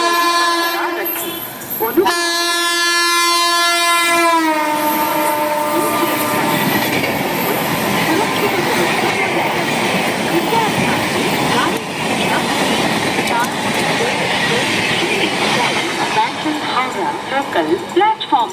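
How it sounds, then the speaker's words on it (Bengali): A through train speeds past a station platform near the Bardhaman main and chord line junction, sounding its horn loudly before a long, close roar and clatter of wheels on the rails. "অনুগ্রহ করে শুনবেন 3 নম্বর প্ল্যাটফর্ম দিয়ে থ্রু ট্রেন যাবে।"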